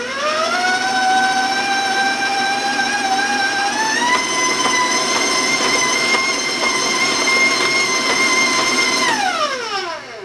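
Electric hand mixer beating vanilla into oatmeal cake batter, a loud, steady whine that steps up in pitch partway through, holds, then winds down as the motor switches off.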